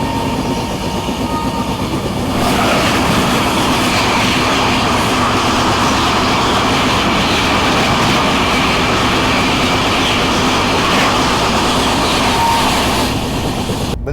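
The Netaji Express thunders past on the adjacent track as a loud, steady rumble and rush of wheels that runs for over ten seconds without a break.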